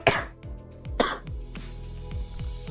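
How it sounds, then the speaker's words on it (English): A harsh, wet cough comes in two loud bursts with throat-clearing rasps, close up and followed by quieter breathy catches and low rhythmic thumps, with no talking. "that cough sounds really bad"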